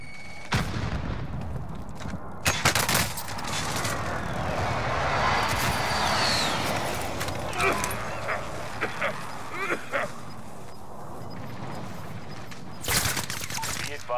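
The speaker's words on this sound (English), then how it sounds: "Enemy precision airstrike." Precision airstrike explosions from Call of Duty Warzone arrive as a rolling series of loud blasts and booms over a continuous rumbling battle bed, with sharp bursts spread across the stretch.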